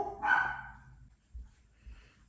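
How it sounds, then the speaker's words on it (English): Indoor pet dogs barking from another room in a house, one muffled bark burst up front followed by fainter, distant thumps and yips, heard without any talking. "my dogs are barking"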